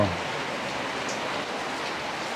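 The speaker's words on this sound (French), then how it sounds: "Et il continue à pleuvoir, c'est évident." Steady rain pours down in a dense, even hiss, close by and unbroken, with no voices.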